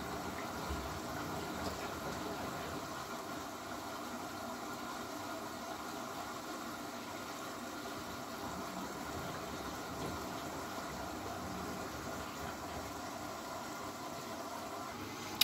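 Water pours into a washing machine drum soaking a cotton blanket, a steady soft rushing hiss with a low hum, faint and even throughout with no voices.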